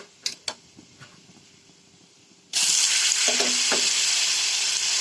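A few quiet clinks and taps, then a sudden loud sizzle as fermented bamboo shoot hits hot oil with turmeric and salt, crackling steadily with a couple of stirring knocks.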